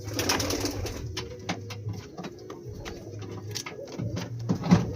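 Pigeons coo repeatedly in a loft in Nagercoil, soft low rolling calls recurring close by amid scattered clicks, wing flutters and other bird sounds, with no talking.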